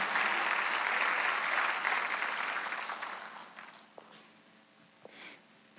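Congregation applause during a Sunday church worship service, fairly full at first, then thinning out and fading to a few scattered claps and quiet room noise.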